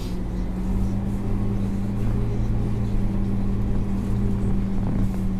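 Large livestock-farming tractor driving, a steady low engine drone with a constant hum and rumble throughout, close and fairly loud, with no talking.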